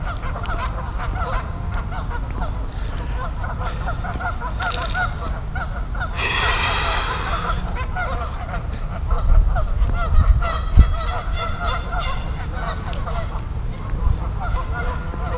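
Geese honking repeatedly in an outdoor park setting, loud calls rising over steady background noise, with a dense burst of honks midway.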